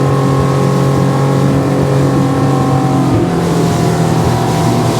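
A Highfield Patrol 860 rigid inflatable boat runs at speed of about 20 to 30 knots, its outboard engine droning loudly and steadily alongside rushing water and wind, with no talk.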